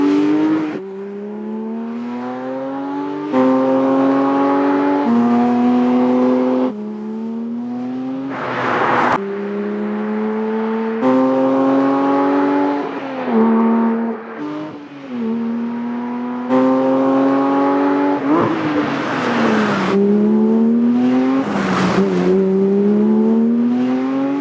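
A 2025 Porsche 911 GT3 Touring drives along country roads, its engine repeatedly revving up in rising howls broken by quick gear changes, loud and sharp throughout.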